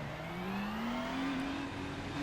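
Race car engine in the iRacing sim game pulling away from a standing start, a steady rising drone of revs with the pitch climbing slowly, continuous and fairly close.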